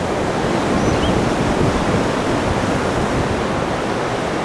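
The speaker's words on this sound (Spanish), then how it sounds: "el oleaje está más fuerte," Strong open-sea surf at Playa El Palmar in Ixtapa roars steadily and loudly throughout, a dense continuous wash of breaking waves with no voices.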